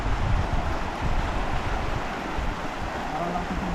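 A river running strong and fast, with broad, steady rushing water filling the scene close by, no talk over it.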